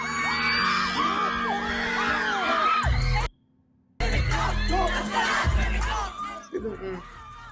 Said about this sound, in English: He got the crowd going crazy.